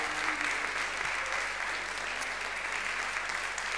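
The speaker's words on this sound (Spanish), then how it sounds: "Fuerte el aplauso para Fabio." Applause from the audience at a tango show greets a singer, dense steady clapping filling the room throughout with no voices over it.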